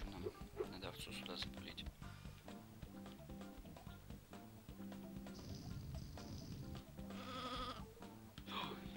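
Sheep bleating in the video game Sheep, Dog 'n' Wolf, several wavering cries spread across the clip over game music and effects, with someone talking over them.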